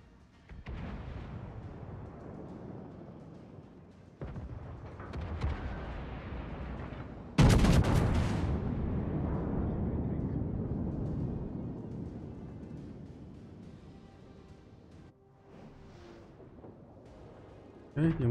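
Scharnhorst battleship guns fire in the naval game World of Warships: several booming salvos, the loudest a sharp blast midway that trails into a long rumbling decay.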